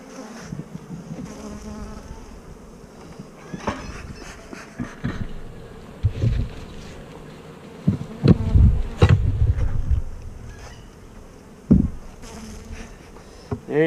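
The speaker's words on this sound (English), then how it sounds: "looks like plenty of bees in there still" Many bees buzz steadily around an open nuc hive, with individual insects droning closer and louder in passing bursts against a busy hum.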